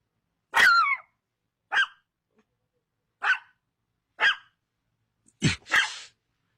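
A neighbour's dog barks sharply next door in the morning, six loud, separate barks spaced about a second apart against otherwise silent surroundings, the last two coming in quick succession.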